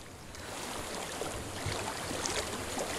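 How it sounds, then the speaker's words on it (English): Steady broadband rushing of flowing water in the video game Hellblade: Senua's Sacrifice, a continuous wash with wind-like hiss that stays even and fairly close throughout. "I hear water"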